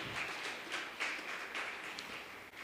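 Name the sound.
congregation applauding in church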